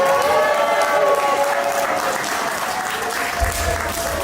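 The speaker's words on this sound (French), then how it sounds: "Applaudissez encore." Wedding guests applaud at a ceremony, continuous dense clapping with a few tonal voice traces above it, slightly softening toward the end.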